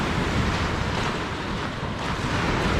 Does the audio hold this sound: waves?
yes